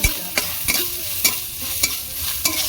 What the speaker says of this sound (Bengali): এবার আমি এক বাটি নারকেল তুলে নিয়েছি দিয়ে দেব নারকেলগুলো ভালো করে লাল লাল করে ভেজে